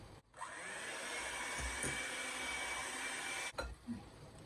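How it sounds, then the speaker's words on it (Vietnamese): Electric hand mixer whirring steadily on its lowest speed while folding Nagasaki castella cake batter, a continuous motor hum that cuts off briefly near the end with a few soft knocks. "Mình dùng cái máy đánh trứng này mình đánh ở số 1 cho nó nhẹ thôi, giống như mình trộn á"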